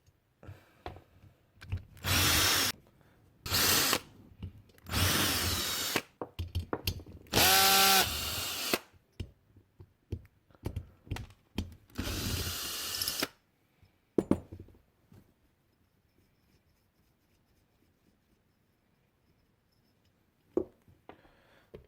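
A power tool removes nuts on an MBK 51 pocket bike in several loud whirring bursts of varying length, followed by a long near-silent stretch with a couple of faint knocks.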